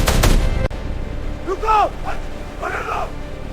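Gunfire in a staged army-versus-police action scene: a burst of loud, rapid shots in the opening half second, then muffled rumble with tonal sweeping effects rising and falling over the rest of the clip.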